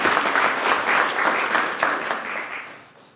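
Short burst of audience applause for a pianist at an arts and culture event, steady clapping from a modest crowd that gradually fades out.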